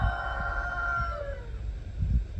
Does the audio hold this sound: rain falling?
no